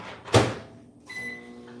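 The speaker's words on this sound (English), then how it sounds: "Sorry, y'all, for the microwave sounds." A dull clunk, then a steady electrical hum like a microwave oven running, with no one speaking.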